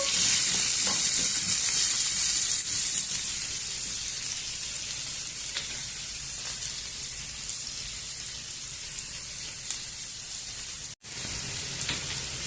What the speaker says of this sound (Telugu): పచ్చిమిర్చి, ఉల్లిపాయ, కరివేపాకు వేసేస్తున్నాము. కొద్దిగా ఉల్లిపాయని వేయించుకున్నాము.